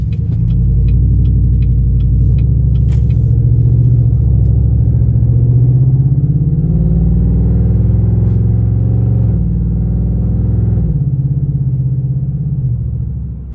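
A Chevrolet LTZ pickup truck's loud exhaust rumbles deep and steady as it accelerates, a heavy close drone that swells and shifts in pitch over several seconds, with a few light ticks early on and no talk.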